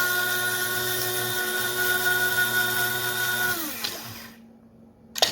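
A cute little electric grinder whirs steadily as it grinds Kona coffee and matcha, then its motor winds down and cuts off near the end, leaving a short pause before a small clatter.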